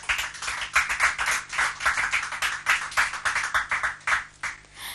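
An audience applauds steadily and fairly loudly for the first two contestants on a French-language TV prize show, with dense continuous clapping throughout.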